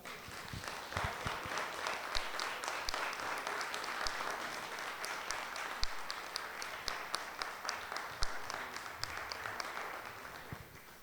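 A church congregation claps with raised hands in worship, a dense, steady wash of many palms sustained throughout at moderate loudness, with no talk over it.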